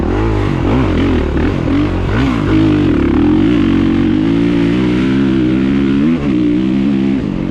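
A 2023 Kawasaki KX450SR dirt bike engine drones loudly in third gear, rising and falling in pitch through the throttle, close and continuous with no pauses.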